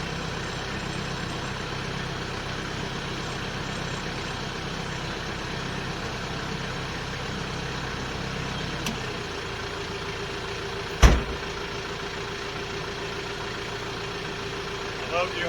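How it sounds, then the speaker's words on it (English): A tractor engine idles steadily, then its tone drops and settles lower as the 3-point hydraulic pump deadheads against a blocked line, with a sharp clunk partway through and someone talking over it. "when I engaged it, my motor pulled down about 100 RPM because it's pumping fluid against a deadhead"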